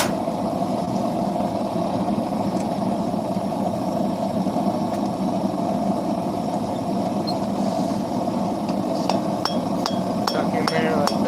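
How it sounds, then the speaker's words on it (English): A steel knife blade is forged under a steady forge roar, with a short run of bright, ringing hammer strikes near the end. "then I'm forging the second one, and it's almost to matching the first one"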